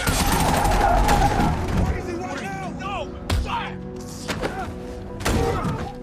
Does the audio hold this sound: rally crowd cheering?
no